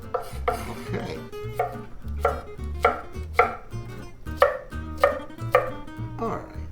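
A knife chopping onion into small cubes on a board, with a run of crisp, evenly spaced cuts in a steady rhythm, close and clear, and no talk.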